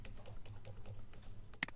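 Several soft keystrokes on a computer keyboard while working in Mastercam 2D CAM software, light irregular tapping in a quiet room, ending with one sharper, louder key press.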